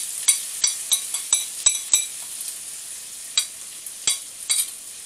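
Corned beef and white rice cooking on low heat in a wok, giving a faint sizzle under a quick series of light utensil taps and scrapes, clustered early and then spaced out.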